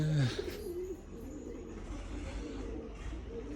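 Pigeons coo with low, soft murmuring calls near the start, then fade into a steady low rumble of background ambience.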